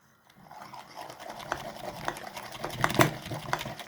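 Piyaz tahini sauce stirred with vinegar and fresh lemon juice, a spoon scraping and clinking steadily against the bowl in quick, brisk strokes, growing louder toward the end.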